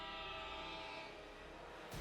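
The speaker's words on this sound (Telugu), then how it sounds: "ట్రైన్ వచ్చేస్తుంది!" A train approaching along the tracks, heard as a loud, steady rumbling roar with a sustained horn-like tone that holds for about two seconds before a sudden shift at the end.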